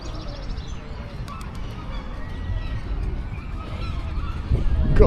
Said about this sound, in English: My God, look at all the seagulls.